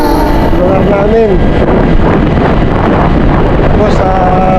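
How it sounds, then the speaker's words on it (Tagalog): Steady wind blows across an open spot between mountains and the sea, a constant rushing roar that fills the whole clip while a person talks over it. "Napakasarap ng hangin dito mga kapams"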